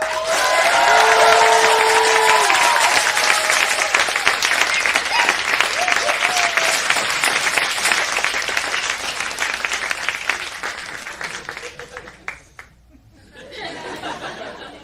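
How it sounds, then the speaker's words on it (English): Audience clapping at the close of a taiko drumming concert: sustained loud, dense applause with scattered cheers and chatter, gradually thinning out before a brief renewed swell at the end. "thank you so much, and I hope you enjoyed our concert with Miyako Taiko."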